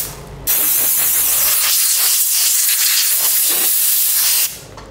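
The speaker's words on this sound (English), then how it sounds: "then I will try to blow it away with our compressor" Milwaukee cordless compressor blasting a loud, steady hiss of air for about four seconds to blow a mix of wood chips and oil off a surface, starting and stopping abruptly.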